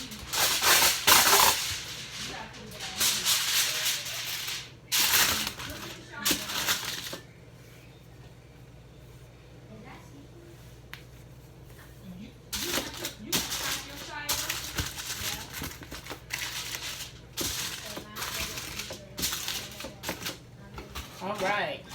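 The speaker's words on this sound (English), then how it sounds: "I'm going to double my aluminum foil." Aluminum foil crinkles and crackles in repeated bursts as it is doubled over and wrapped around a pan, loud and close with quieter pauses between handling.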